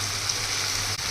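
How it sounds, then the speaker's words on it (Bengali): Masala and tomatoes fry in a pan for egg biryani, giving a steady, close sizzling hiss with a faint clatter near the end. No voices are heard. "মশলাটাকে ভালো করে কষিয়ে নিতে হবে। টমেটোগুলোও দিয়ে দিই।"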